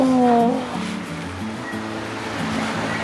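Krathing Waterfall in Khao Khitchakut National Park, a thirteen-tier cascade, gives a steady, dense rush of water that runs the whole time, with soft tonal music running underneath.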